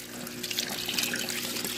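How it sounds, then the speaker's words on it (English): Water pours steadily into a Haier XQBM22-C compact fully automatic portable washing machine, a close, continuous splashing rush that stays even for the whole short stretch with no talking. "So we're pouring some water right here"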